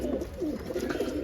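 A Sadha junglee line racing pigeon coos softly in a low, rolling rhythm, a few repeated throaty pulses heard close with no talking.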